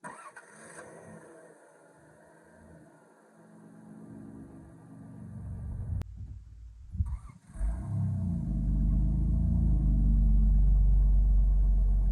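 A 1993 Dodge Grand Caravan SE engine cranks briefly, catches, and settles into a low idle that grows louder and steadier, rumbling close to the microphone.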